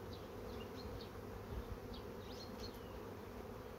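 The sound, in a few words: honey bees buzzing at the hive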